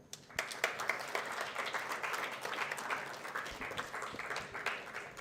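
Audience applause at a university department presentation day at IIT Madras, welcoming a professor to speak; steady dense clapping from a moderate-sized crowd, fairly loud and continuous for several seconds.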